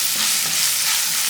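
Thinly sliced onions with a little salt fry in a pan for poha upma, giving a loud, steady, close hiss of sizzling oil with no break.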